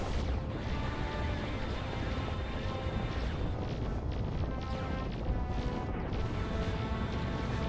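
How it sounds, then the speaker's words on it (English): A uranium Gatling gun fires in a space battle video game, a dense, constant roar of rapid-fire blasts and crashing booms that stays loud and unbroken throughout. "Let's open up with the uranium Gatling gun"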